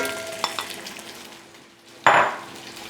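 Eggs cracked into a hot frying pan beside a steak for a carnivore breakfast, bursting into a loud, close sizzle after a few soft clinks of cookware.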